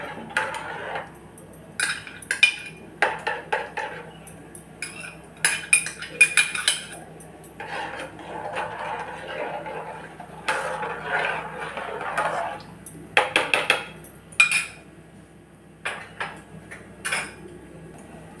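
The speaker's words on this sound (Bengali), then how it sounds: "এবার দুধ দিয়ে গোলা এই আমুল দুধটা দুধের মধ্যে পুরোটা ঢেলে দিলাম। ভালো করে মিশিয়ে নেব।" A spoon clinks and scrapes against a pot while stirring a milk mixture made with Amul milk, in repeated irregular bursts of metallic taps with quiet pauses between, close and fairly soft.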